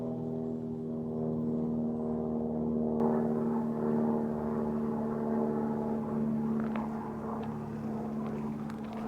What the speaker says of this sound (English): Pick up the plane.